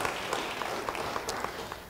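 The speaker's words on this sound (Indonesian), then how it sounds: "Beri tepuk tangan bagi dia" A church congregation claps and applauds continuously in a large reverberant room, a dense steady patter.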